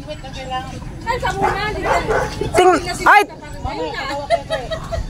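A dog barks and yips repeatedly, close by, mixed with people talking over it.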